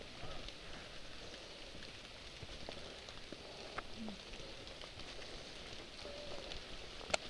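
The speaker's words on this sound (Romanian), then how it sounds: "uite ce ploaie ne-a prins" Rain falls steadily on a hike through the Suchá Belá canyon, a soft, even hiss of drops on surfaces with a few faint clicks and no speech.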